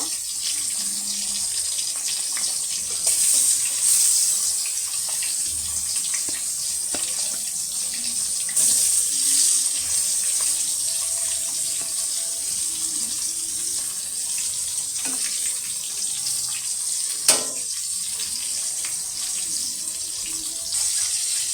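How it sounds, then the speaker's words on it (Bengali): Fish coated in turmeric, salt and chili sizzles in a pan with a steady, dense crackling hiss that continues for the whole stretch, with a few small pops and one sharper clack near the end. "মাছটা ভাজতে দিচ্ছি, দেখো। এখন মাছটা ভেজে নিব।"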